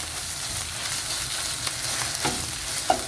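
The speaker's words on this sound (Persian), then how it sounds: "بعد از اون من رکو وسط تابه میریزم، یک کمی همش میزنم" A roux sizzles in a hot frying pan while being stirred, a steady close crackle and hiss with a few soft scrapes and taps of the utensil against the pan, no voices.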